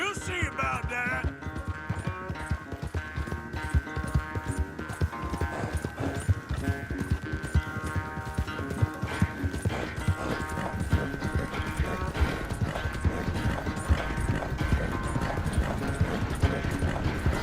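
A horse gallops at a quick, steady rhythm under a rider in Red Dead Redemption 2. The hoofbeats sound close and continuous, with a tonal music or ambient hum underneath.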